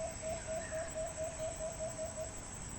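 An alimokon dove gives its quick sunsun call outdoors, a rapid run of repeated short notes over steady background hiss, with no talking.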